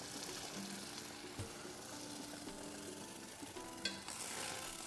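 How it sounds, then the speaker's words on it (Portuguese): Guava pudding mixture sizzles and bubbles in a very hot pan, a steady close frying hiss with faint stirring scrapes throughout. "Não é essa fervura que você acabou de ver, simplesmente porque a panela estava muito quente"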